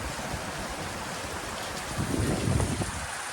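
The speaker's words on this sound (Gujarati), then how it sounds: "આજ તો કેટલું વરસાદ આવી ગયો." Steady rain falling outdoors in a village, a dense even hiss that swells slightly louder toward the end, with no talking.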